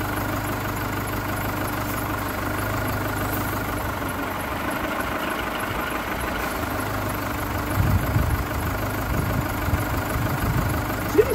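A VW Golf engine idles smoothly with a steady, even mid-to-low hum that holds close and constant, with a brief rougher rumble partway through and no talking over it.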